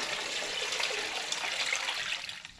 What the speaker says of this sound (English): I'm going to add more water to this bucket until I've completely submerged the whole block.